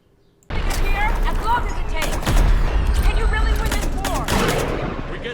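A powerful weapon in the video game Mass Effect 3 fires in rapid, heavy bursts of gunfire with booming impacts, loud and sustained over a few seconds, with brief game voices mixed in.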